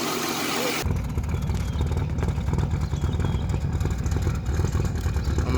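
A 1987 Chevrolet Celebrity Eurosport engine runs rough and close after a sudden start, with a dense, uneven clattering chug that stumbles and wavers instead of revving cleanly.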